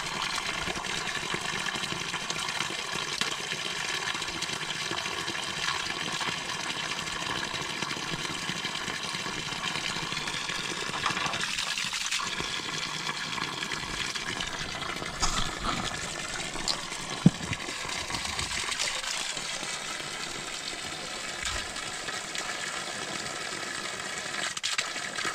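Dirty water gushes and splashes steadily as it drains out for a long stretch, a rushing flow with a low mechanical hum underneath and occasional surges.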